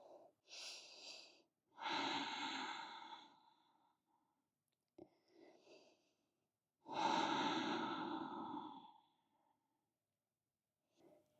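Slow, deliberate breaths during a Vinyasa yoga session, with long audible inhales and exhales in a calm rhythm separated by pauses, close and fairly quiet, with no talking.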